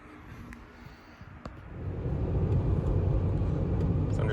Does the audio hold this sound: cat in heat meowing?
no